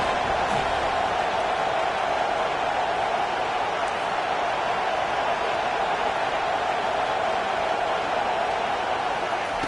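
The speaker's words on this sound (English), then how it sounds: "Decibels rising as the crowd gets behind this defense on 3rd down." Roar of a stadium crowd at an Oregon vs FSU football game on third down, a steady loud wash of cheering voices sustained throughout.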